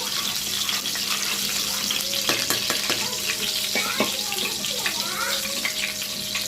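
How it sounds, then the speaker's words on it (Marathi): Garlic frying in four spoons of oil in a pan gives a steady close sizzle, with scattered clinks and scraping from stirring over it. "त्याच्यामध्ये आधी लसूण फ्राय करून घ्यायचा व्यवस्थित"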